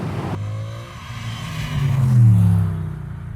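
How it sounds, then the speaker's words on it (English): Mercedes SLS AMG Roadster with its dry-sumped 6.2-litre M159 V8 revving hard, rising to a loud throaty peak then easing off, close and alone. "So this is the M159 V8, which is derived from the M156 that was in the C63 back in the day."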